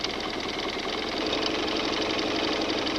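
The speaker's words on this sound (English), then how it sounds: "This is just straight stitching all the way down." A sewing machine runs a continuous straight stitch down a quilt seam, its steady, fast mechanical whir and rattle holding at an even level close by for the whole stretch.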